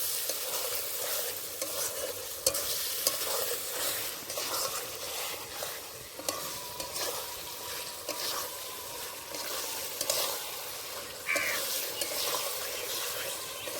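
Jackfruit curry masala fries in goat fat while a spoon stirs through it, a steady sizzle running underneath scattered scrapes and clinks of the utensil against the pan.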